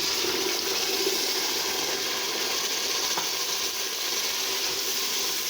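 A paste of tomato, ginger, green chilli and garlic fries in oil with a steady, loud, continuous sizzle and no talking.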